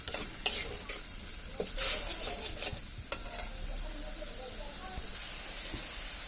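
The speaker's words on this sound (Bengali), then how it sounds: "এখন মশলাটাকে ভালোভাবে কষিয়ে নিতে হবে।" Spice masala for a prawn and taro-stolon curry fries in a hot pan, giving a steady sizzle and hiss. A spatula stirs it in irregular scraping strokes that rise above the constant frying.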